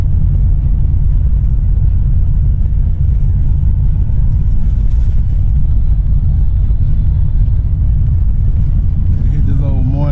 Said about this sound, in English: Hit this old morning traffic, look like.